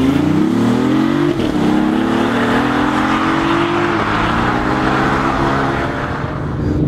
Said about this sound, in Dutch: Dus ga je gewoon weg van 0 naar 100, schiet die af.